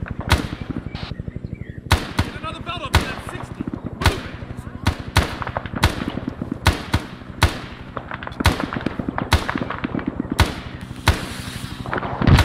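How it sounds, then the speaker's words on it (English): A grenade goes off during a close-range firefight in a bamboo thicket. Loud, sharp bangs and rapid shots repeat irregularly throughout, close and punchy. "there's another fucking grenade"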